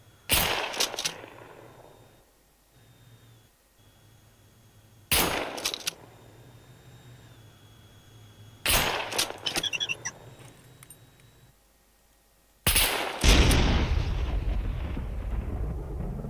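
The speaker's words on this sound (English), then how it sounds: "Oh, he's shooting the robot." In the video game Scum, gunfire is aimed at a small surveillance robot, heard as four sharp loud bursts spaced a few seconds apart, each decaying into rumbling echoes over a faint steady hum.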